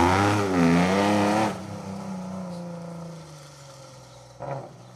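Outlawed Group B rally car at a historic rally festival demo stage, engine revving hard then easing off as it passes nearby, with a brief sharp burst near the end.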